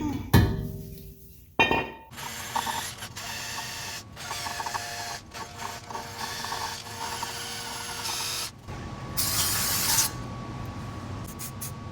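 Aerosol paint sprayed onto brake parts, including a new rotor, during a brake swap on a Toyota Prius: bursts of steady hissing spray with short pauses and some clinks and handling noise between them.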